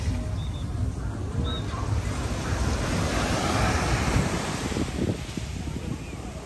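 Sea waves wash ashore at JBR Marina in Dubai at night, a steady broadband surge that swells toward the middle and ebbs again, with wind buffeting the microphone throughout.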